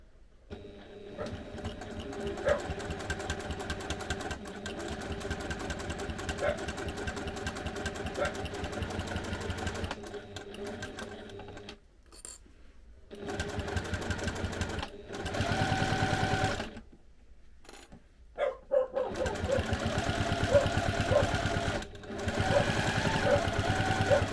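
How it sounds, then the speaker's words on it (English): Sewing machine running in long steady bursts while top stitching fabric pieces with a walking foot, its motor whirring and needle chattering, with brief pauses between seams and no talking. "so you just top stitch them down and then repeat that for all the other pieces"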